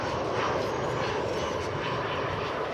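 An Airbus A319 airliner from Morelia, Mexico passes with a steady, broad jet-engine roar that holds evenly loud throughout.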